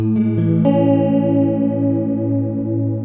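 A guitar run through a Chase Bliss Warped Vinyl HiFi pedal with the tone knob at noon, sustained chords with a warbling chorus-like wobble, loud and alone, ringing out after a few plucked notes.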